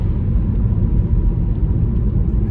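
An MG ZS EV electric car accelerating on the road gives a steady, low rumble of road and cabin noise with no clear engine note, continuous and fairly loud throughout.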